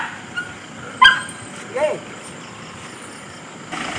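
A dog barks beside a Mitsubishi Delica 4x4 camper van at a resort in Taal, Batangas, giving a couple of short yips around the middle of the clip against steady outdoor background noise, with a faint vehicle hum.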